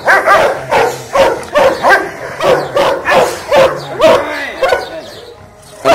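A dog barks in a steady run of loud, close bow-wows, about two per second, with a few yips and whimpers mixed in during a guard-dog training session where a handler uses a muzzle and a bite sleeve.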